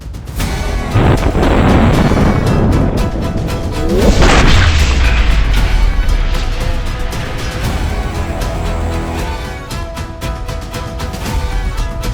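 A tank cannon fires a single point-blank shot, a huge booming blast that swells and rolls on as a long, loud rumble, with a few scattered voices under the fading noise.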